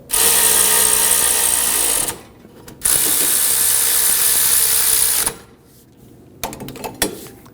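A ratchet snugs up the brake caliper bolts on a 2013-2015 Subaru XV Crosstrek during rear wheel bearing and hub work, with two long loud bursts of rapid clicking and then a few shorter clicks, close and without speech.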